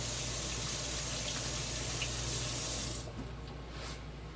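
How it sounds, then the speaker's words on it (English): Hands are washed under running kitchen tap water while making bread dough, a steady close hiss of flowing water that cuts off about three seconds in, leaving a quieter drip and trickle, with no talking. "Let me wash my hands off."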